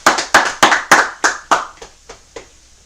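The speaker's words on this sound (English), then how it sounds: "Go ahead. Clap it up." A group at a religious feast gathering claps about ten times in a loud, close rhythm that slows and grows fainter before trailing off into quiet.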